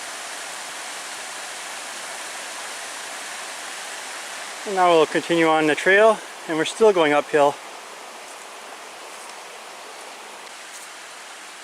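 A river with small waterfalls beside a hiking trail along cliffs gives a steady, even rushing hiss from start to end, with someone briefly speaking over it midway.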